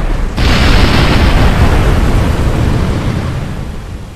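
A rocket blows up in Kerbal Space Program, a single sudden loud blast that swells into a heavy, roaring rumble and slowly fades, with no voices.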